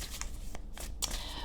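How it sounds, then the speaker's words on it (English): A deck of tarot cards is shuffled by hand, producing soft, quick riffling and sliding bursts close up, with a few brief flutters over a faint background hum. "I'm going to shuffle the cards a few times, or really just while I talk."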